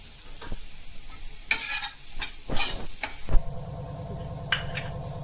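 Tomatoes sautéed on a tawa for dhaba-style egg masala, with spatula scrapes and stirring clatter over a soft sizzle, ending in a steady low frying hiss close by.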